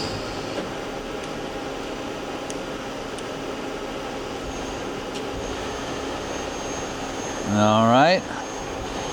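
A Milltronics CNC vertical mill running on 220 V single phase hums steadily, then its Z axis moves with a short, rising motor whine near the end. A voice speaks briefly.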